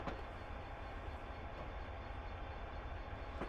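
A train runs on the Settle to Carlisle line in a railway simulator, giving a steady, even rumble of wheels and engine with no speech and no clear breaks.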